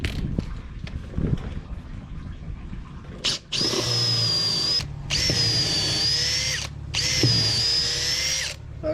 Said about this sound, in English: And drill them through.